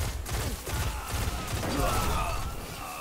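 Rapid automatic rifle fire in the PvP mode of the video game Destiny, a dense burst of shots continuing for about three seconds under a busy game mix with speech.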